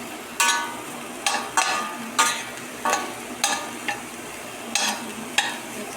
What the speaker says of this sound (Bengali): ঘি দিয়ে ব্রাউন কালার করে নিতে হবে